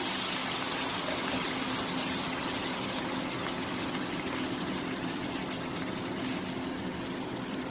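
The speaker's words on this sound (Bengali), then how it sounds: "একটু পানি দিয়ে দিলাম" Water gushes into a hot pan of frying spices for a fish curry, a steady loud hiss and sizzle lasting throughout with no talk.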